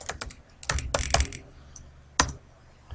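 Keystrokes on a computer keyboard while entering a name into an Excel name box: a few quick clustered clicks, then a pause and a sharp tap, fairly close and clear with no voice.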